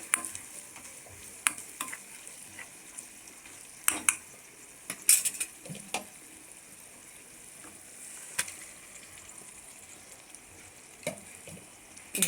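Spoon scraping and clinking against a pan as chopped tomato is stirred into a frying capsicum and pea masala curry, with a steady low sizzle and intermittent metallic taps throughout.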